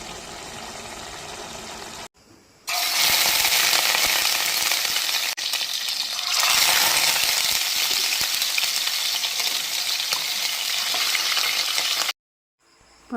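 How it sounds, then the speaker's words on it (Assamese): Pieces of koch fish fry in hot oil in a wok, a loud, dense sizzle with stirring. It drops out briefly near the start and cuts to silence near the end. "মই কেৰাহীখনত তেল দি তেলখিনি গৰম হোৱাৰ পাছত মাছ কেপিচ নিমখ হালধি নলগাকৈ এনেকৈ ৰঙচুৱা পৰালৈকে ভাজি লম"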